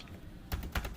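A handful of quick keystrokes on a computer keyboard while typing a javac command for a Hadoop job, close and crisp, about three clicks with no talking.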